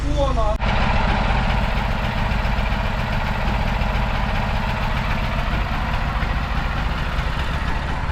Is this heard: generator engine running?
yes